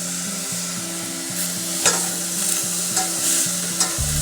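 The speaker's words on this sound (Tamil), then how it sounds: "தக்காளியும் கொஞ்சம் வதங்கி வரட்டும்." Chopped tomatoes and onion sauté in a pan, giving a steady loud sizzle with a spoon scraping and stirring in a repeating rhythm, plus a few light knocks against the pan.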